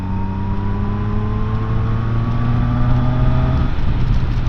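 A Zontes 703RR motorcycle in eco mode pulls steadily through sixth gear from 45 to 70 mph, a loud continuous engine drone rising gradually in pitch with constant wind rush, no voices.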